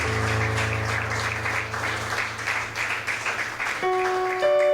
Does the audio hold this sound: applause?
yes